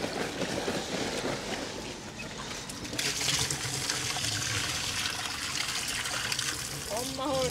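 Fast-running tap water gushes steadily in a camper van, a continuous broadband rush that grows louder partway through and carries on to the end, with some voices and handling noises faintly underneath.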